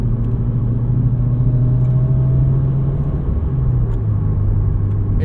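A 2020 Subaru WRX on a track gives a loud, steady, boomy low exhaust drone under load from inside the car, holding a near-constant pitch without talk.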